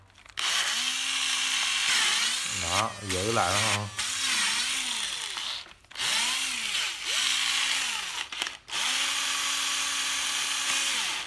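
A cheap cordless drill switched to drill mode whines in repeated bursts, its motor pitch rising and falling as the trigger is squeezed and released, loud and close, with someone speaking briefly between runs.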